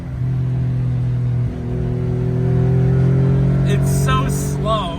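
Small Honda three-cylinder engine revving hard around 5,500 RPM, a loud, steady buzzing drone that climbs in pitch after a brief dip, with a voice speaking briefly near the end.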